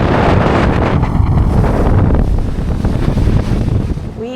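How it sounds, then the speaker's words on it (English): Strong wind buffeting the microphone in a loud, roaring rush aboard a motor yacht off the Maine coast, with water sounds beneath; it eases off near the end. "Ooh, it's windy."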